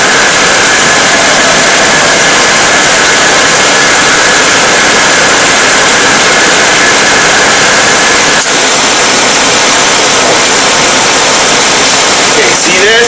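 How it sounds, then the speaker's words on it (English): Car engine idling under the hood with the AC compressor clutch engaged, a steady loud broadband whooshing roar held throughout, close to the source, with a brief faint click near the end. "Pay close attention to the compressor as I turn the AC off."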